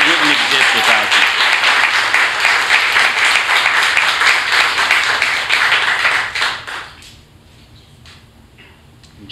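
Church congregation applauding during a Sunday morning worship service, steady loud clapping for about six seconds before dropping away to near quiet.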